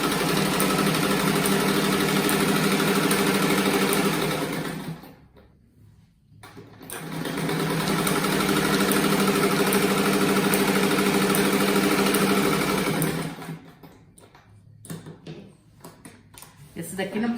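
A sewing machine stitches a patchwork bath mat made from fabric scraps, running loud and steady for long stretches with a brief pause in the middle and stop-start bursts near the end.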